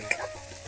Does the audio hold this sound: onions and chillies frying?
yes